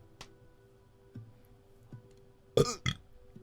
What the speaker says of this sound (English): Got a burp right there.